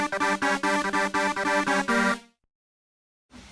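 A bright, buzzy synth without its talking modulator effect plays a run of short, evenly spaced chords, then cuts to silence before a brief note returns at the end.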